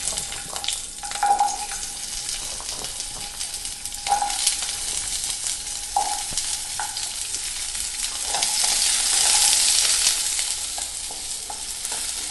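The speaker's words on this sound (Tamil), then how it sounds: "எண்ணெய் சூடாயிடுச்சு, வெங்காயத்தை சேர்த்து வதக்கிக்கலாம்." Onions sizzle and crackle steadily in hot oil, with occasional scraping as they are stirred in the pan.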